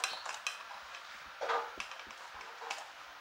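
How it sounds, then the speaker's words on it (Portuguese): Pork sausage tossed into a metal cooking pot in a home kitchen, with sharp clinks and clatters of utensil on pot, a small cluster of knocks and a louder rattling thud midway, fairly close and with no talk. "Agora eu vou colocar a linguiça."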